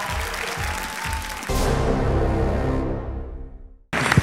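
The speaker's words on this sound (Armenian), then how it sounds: "եկեք բարձր ծափարություններով դիմավորենք հաջորդ մասնակցին" Audience applause at a televised X-Factor Armenia audition: a dense burst of clapping swells after a short lead-in, holds steady, then fades away before an abrupt cut.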